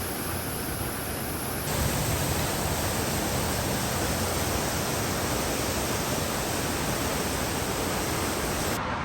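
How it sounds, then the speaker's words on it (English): A small double waterfall roars in a steady, dense, close wash of falling water that grows louder after the first couple of seconds and continues unbroken, with no voices. "A beautiful little double waterfall."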